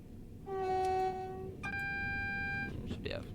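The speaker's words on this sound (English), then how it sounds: "Hopefully you've been able to hear the train alright." A synthetic train horn from a Class 377/2 electric train in Train Sim World 5 sounds twice in long steady tones over a continuous low engine rumble, with a brief higher squeal at the end.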